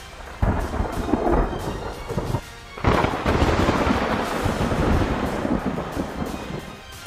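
A night thunderstorm over Karachi: two sharp, loud thunder cracks break over a steady roar of heavy rain that continues throughout.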